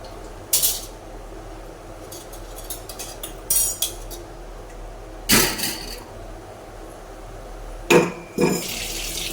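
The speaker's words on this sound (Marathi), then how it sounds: "आपण भांडी घालतो" Running water splashes into a sink in short bursts as dishes are rinsed, with faint clinks of plates and cutlery in between.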